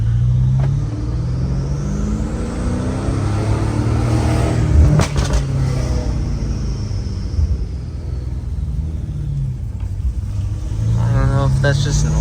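A BMW F8X car on a drive, its engine rumbling steadily and revving up under the cabin noise, with people talking over it throughout.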